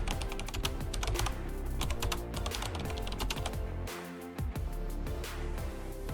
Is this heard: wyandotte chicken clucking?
no